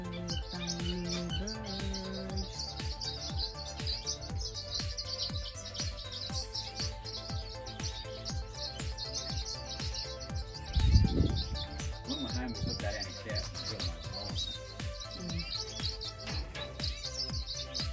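Small birds chirp and tweet at a lakeside campsite at Lake Redbrook Holiday Retreat, steady and fairly faint in the background while people talk nearby.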